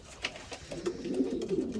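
Racing pigeons coo softly in a loft, a few low murmuring calls rising toward the end against a faint background hum, with no talking.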